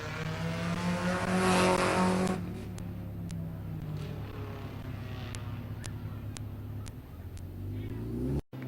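Race car engine roaring at Midvale Speedway, loud and sustained as it pulls into victory lane, swelling early then holding a steady drone with brief sharp clicks over the top.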